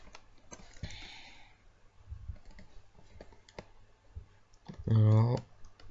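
Mouse clicks on a computer opening GTA San Andreas, a few sharp isolated clicks spread out, with a brief sniff and quiet breathy voice sounds between them.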